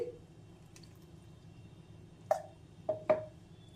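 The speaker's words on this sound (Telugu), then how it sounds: "ఇప్పుడు తీసుకున్నాక దీంట్లోకి నీళ్ళు పోసుకోండి" Water being added to ragi flour in a large bowl: a few distinct drips and small plops, three of them close together near the end, against a quiet background.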